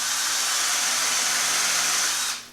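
A power drill drives screws into wood to hold down a form, its high, steady whir running loud and close for about two seconds before cutting off abruptly.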